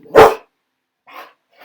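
A dog gives one loud, sharp bark up close, followed after a pause by a quieter second bark and the start of another, with silence between.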